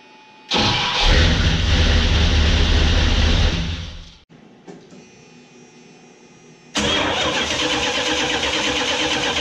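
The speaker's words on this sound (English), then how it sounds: "we're going to reconnect the battery cable and make sure she starts" A 1979 Chrysler Cordoba with a newly fitted gear reduction starter cranks and fires into a loud, close idle. The engine cuts out after a few seconds, then a second start brings it back to a steady running hum.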